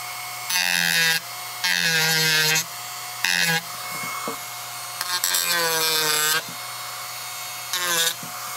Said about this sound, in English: We're going to take a Dremel and really smooth out some of these jagged edges.